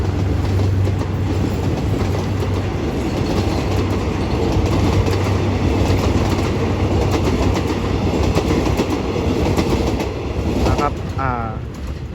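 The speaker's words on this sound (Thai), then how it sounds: "ปิดท้ายก็โดยขบวน 168 นะครับข้ามสะพานจุลเงินสวยๆกันไปเลยนะครับ" Train 168 rumbles steadily across the Chulngoen bridge near Surat Thani station, its wheels clacking over the rails in a continuous loud roar, with a brief squeal near the end.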